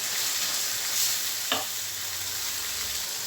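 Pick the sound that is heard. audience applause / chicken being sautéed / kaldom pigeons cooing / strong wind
chicken being sautéed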